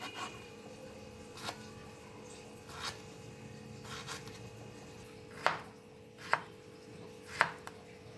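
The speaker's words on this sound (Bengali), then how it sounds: "এবার আলুগুলো এমন পাতলা পাতলা স্লাইস করে নিচ্ছি।" A knife slices potatoes thinly on a board for a raw tomato mash dish: a few quiet cuts early, then three sharper, distinct chops near the end, close and alone.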